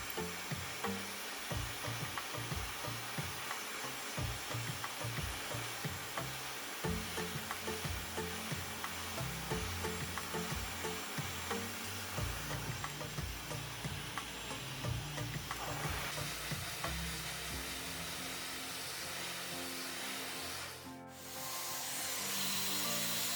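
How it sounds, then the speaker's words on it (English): A hair dryer blows steadily and close along lengthened sections of 3b–3c curly hair, a loud continuous whoosh with a rhythmic rustle as the hair is handled and stretched, then a brief dip near the end. "just blow dry along the length of the hair just to kind of stretch out the length"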